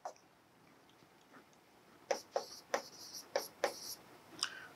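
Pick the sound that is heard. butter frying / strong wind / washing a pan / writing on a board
writing on a board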